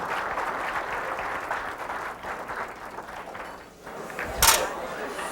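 A crowd at a WPBA Classic Tour pool match in New York applauds with moderate, steady clapping. It dips briefly near the end, and a short sharp knock follows. The sound is heard from a distance.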